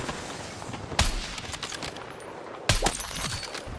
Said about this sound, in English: Five running shots.